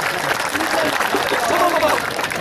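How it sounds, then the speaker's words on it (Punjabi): Applause from spectators at an open kabaddi match at a village fair in Sargodha, steady dense clapping mixed with crowd noise and voices throughout. "ਤਾਂ ਫਿਰ ਤਾੜੀਆਂ ਮਾਰੋ"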